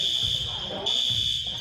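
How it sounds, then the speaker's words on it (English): A shrill, steady electronic fire alarm blares continuously through a gym during a basketball game, loud and unbroken, with crowd noise and sneaker squeaks faintly underneath. "Alarm goes off right as he's shooting"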